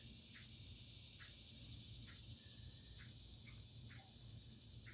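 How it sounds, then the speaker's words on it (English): Backyard birds on a hot summer morning give repeated short, agitated calls at regular intervals, fairly faint and distant over a steady hiss of insects and ambient noise. "I hear the birds are making a stink in the backyard, so there must be a cat around."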